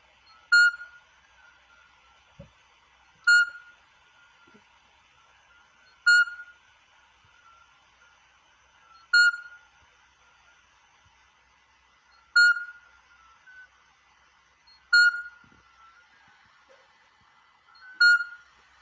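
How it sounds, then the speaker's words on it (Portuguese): An Iberian midwife toad calls at night, a clear, pure, bell-like beep repeated seven times at steady intervals of about 2.5 seconds, moderately near against a silent background with no voices. "E agora do sapo parteiro ibérico."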